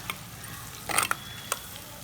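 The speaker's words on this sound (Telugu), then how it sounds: "కట్ చేసుకుని ఇలా వేయించుకోవాలి, కొంచెం బాగా వేగాలి ఉల్లిపాయ" Sliced onions fry in a pan with a soft continuous sizzle, punctuated by a few quick scraping stirs and clinks of a spoon, close and fairly quiet, with no one speaking.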